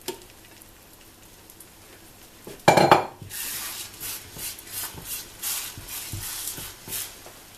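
Potato omelette being shifted around in a frying pan, giving a sharp scrape and clatter of pan and utensil followed by steady soft sizzling and light scraping taps, close and fairly quiet, with no talking.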